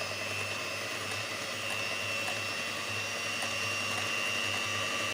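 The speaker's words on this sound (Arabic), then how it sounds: "عندي 4 لتر ديال الكريمه غنطربها" An electric mixer whips four litres of cream in a home kitchen, a steady, loud motor whir with a constant hum running unbroken until it cuts off at the end.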